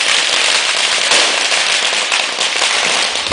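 Fireworks going off in the sky over Vijaygarh during a festive celebration, a dense, continuous barrage of loud crackling pops and bursts with no pauses for several seconds.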